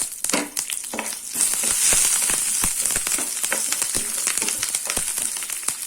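Dried red chillies and curry leaves frying in hot oil for garlic rice, a steady loud sizzle with dense popping and crackling bursts throughout, no voices.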